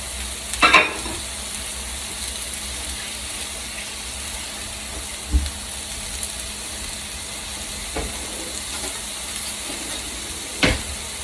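Turkey sausage patties fry in a pan with a steady, even sizzle throughout, broken by a few brief clanks and scrapes of utensils, with no talking.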